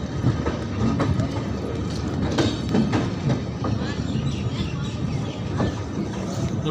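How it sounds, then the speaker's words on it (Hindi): An express train pulls out of a station, with steady rumble and rhythmic clickety-clack of wheels over the rails, loud and close throughout, with a few sharper metallic knocks. "हमारी ट्रेन यहाँ से डिपार्ट हो चुकी है।"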